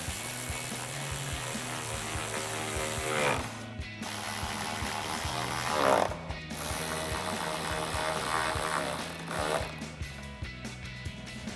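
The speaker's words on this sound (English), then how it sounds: "Then we can tighten these up with our 10mm socket." Ratchet with a 10mm socket tightening headlight mounting bolts on a 2017-2019 Ford F-250, rapid close clicking in repeated strokes with brief pauses between, and no talk.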